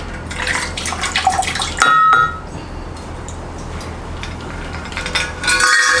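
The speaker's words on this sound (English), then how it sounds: "we're going to note down how much water is going to come out from these bottles" Water glugs and splashes out of an insulated growler bottle, with clinking ice knocking inside, the pour steady and close over a brief lull before a final splashing burst.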